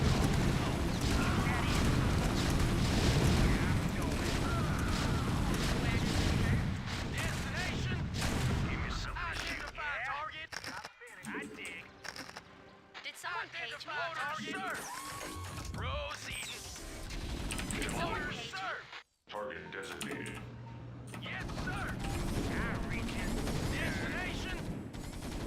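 Siege tanks firing artillery in StarCraft, with heavy booming shots and mechanical clanks over a dense game soundtrack, while voiced unit responses cut in during the second half.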